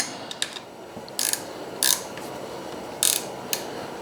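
A hand ratchet tightens the steering stem clamp bolts on a Honda XR250R motorcycle, with short, close clicking bursts that come in irregular strokes and brief pauses.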